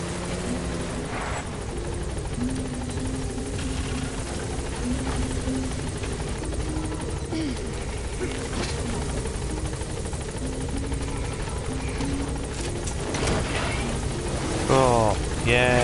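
A helicopter hovers over a landing zone in the video game Metal Gear Solid V, its rotor and engine making a steady, loud drone that runs throughout, with game sounds and speech over it.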